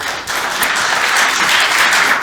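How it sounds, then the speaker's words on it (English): A seminar audience gives steady, dense applause after a presentation on maritime ITS, loud and close, filling the whole stretch without pause. "Warm applause for Trond for his presentation."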